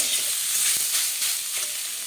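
Radish frying in hot oil with red chillies and nigella seeds, a steady close sizzle and crackle running throughout with slight fluctuations and no voices.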